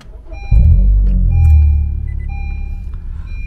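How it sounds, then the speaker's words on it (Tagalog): A car engine cranks and catches abruptly, rising into a loud, close rumble that settles to a steady idle, with faint electronic beeps above it and no talking. "start ko yung kotse"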